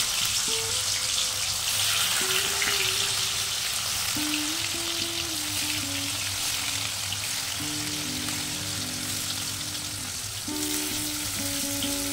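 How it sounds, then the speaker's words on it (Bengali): Paneer pieces lightly frying with a little salt in a kadai make a soft, continuous sizzle, with a faint tonal hum wandering in the background. "বেশি ভাজা যাবে না, হালকা ভেজে তুলে নেব"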